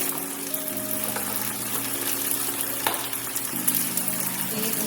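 Noodles are sautéed in sauce in a pan while pork chops and collard greens cook. A steady, close sizzle and hiss runs throughout, with a few faint clinks and no talking.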